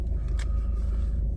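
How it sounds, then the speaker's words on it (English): A 2014 Ford Focus 1.6 TDCi Titanium X diesel with 72,225 miles gives a brief, steady low engine rumble as it starts, heard close and alone. "I'll just start the car up for you"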